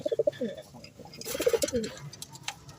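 Pigeons cooing close by in a loft, soft throaty rolling coos repeated in short bursts, with someone talking over them and light fluttering and shuffling in the background.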